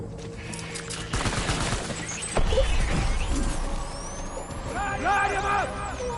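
Gunfire erupts in the video game Death Stranding, a clattering volley of shots mixed with a heavy hiss and mechanical rumble, with voices calling out over it and a rising whistle near the end.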